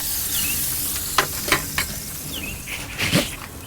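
Molasses-brined pork chops sear over a hot Kamado Joe grill, with a soft continuous sizzle broken by a few brief pops and scrapes.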